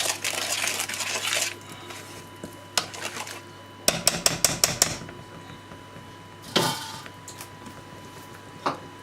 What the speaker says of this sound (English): Put the remaining the flour and the sugar in this and just stir it.